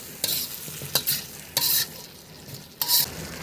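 Potatoes and tomato are stir-fried with spices in a pan, heard as four short scraping bursts of stirring over a soft background sizzle.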